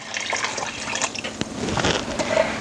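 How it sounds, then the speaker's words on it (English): Chicken broth poured from a container into a tomato mixture in a soup pot for pasta fagiole, a continuous liquid splashing and gurgling that swells toward the end, close and fairly loud with no talk. "We will add that to the tomato mixture."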